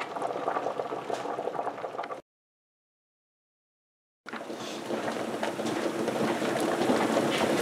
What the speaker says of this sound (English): You can probably see it bubbling a little bit back there, but not a full rolling boil